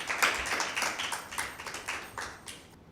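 Audience applause for team B at a school Bible quiz, a few seconds of moderate, steady clapping from a small crowd that fades out abruptly at the end.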